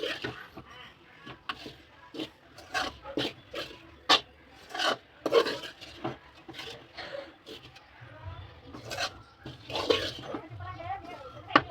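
Repeated rasping scrapes of coconut being grated for sweet coconut chikki, irregular strokes close by, with a voice talking intermittently.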